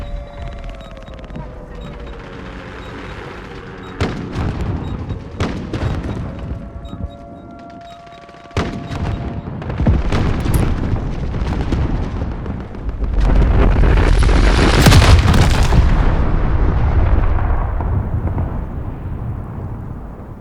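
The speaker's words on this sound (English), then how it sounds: "Allied cruise missile away." Cruise missile strike in the Modern Warfare video game: loud booming explosions with sharp cracks give way to a heavy, sustained roaring blast and rumble that fades slowly.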